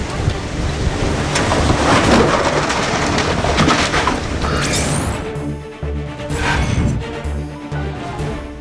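Heavy rain pours steadily in a dense roar at Khanapur, Belagavi, with some crackling bursts and a low rumble as it eases slightly partway through.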